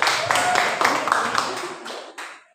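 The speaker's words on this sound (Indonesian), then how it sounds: "tepuk tangan" Classroom applause during a micro-teaching session, a burst of many hands clapping that runs dense for about two seconds, then thins to a few scattered claps before stopping, with voices mixed in.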